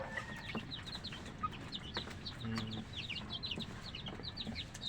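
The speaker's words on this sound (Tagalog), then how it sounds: "Ito yung mga chicken." Farmyard chickens cluck in a busy, overlapping chorus of short repeated calls, with a few louder hens close by and others farther off, over steady low background noise.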